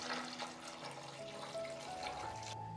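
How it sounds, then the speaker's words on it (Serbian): Hot water poured from a kettle into a cooking pot around hot glass canning jars, filling up to the level of the lids; a steady, close splashing pour that runs without a break, then stops abruptly near the end. "Vruću vodu sipam do visine poklopca."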